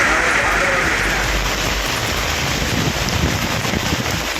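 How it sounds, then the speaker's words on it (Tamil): Heavy rain pours in a dense, steady roar with no letup, loud and constant throughout, with a faint low rumble beneath. "பகுதிகளில் பரவலாக கனமழை வெளுத்து வாங்கியது."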